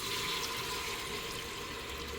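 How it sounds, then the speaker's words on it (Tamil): Water pours steadily from a vessel into a biryani pot of fried masala, a faint, continuous splashing flow with no voices. "தண்ணி ஊற்றி கொடுப்போம்."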